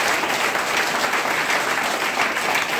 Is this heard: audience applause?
yes